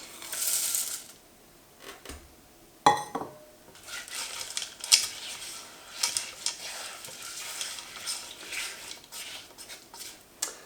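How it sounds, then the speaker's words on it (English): A pan of sugar and chocolate melting for brownies is stirred, giving soft scraping and clinking of a utensil against the pan with a sharp knock near the start, over faint continuous sizzling. "We'll just keep stirring and gradually it'll all come together."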